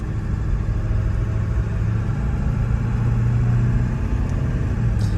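A 2000 Ford Excursion Limited with the 7.3 diesel engine drones steadily while driving, a continuous low engine rumble heard from inside without pauses or talk.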